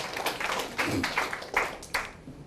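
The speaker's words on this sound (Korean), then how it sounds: "박수 한번 주세요. 박수." An audience at a church education lecture claps briefly, a loose burst of separate hand claps in quick uneven rhythm, fairly close and moderately loud, thinning out by the end.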